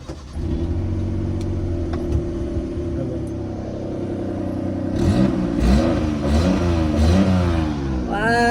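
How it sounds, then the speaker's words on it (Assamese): A car that is partly broken down, its engine revving hard in rising and falling surges after a steady idling rumble, loud and close, with voices talking over it. "কিন্তু এইটো গাড়ীৰ যিহে চাউণ্ড দি আছে বৰ্তমান এবাৰ শুনি লওক"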